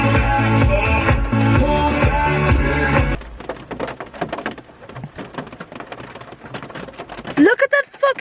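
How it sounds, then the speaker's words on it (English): Rain falls in a steady, hissing patter with scattered drops, heard after a few seconds of loud music cut off abruptly; a voice briefly sounds near the end. "Look at that fucking rain! It's so rainy."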